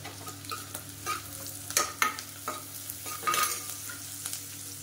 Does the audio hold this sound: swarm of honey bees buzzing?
no